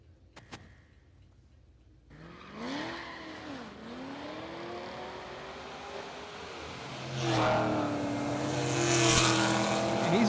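At a street drag race, a Cadillac CTS-V wagon launches and accelerates down the track with rising engine revs and tire noise, loud and moderately distant, and a second pass builds louder toward the end.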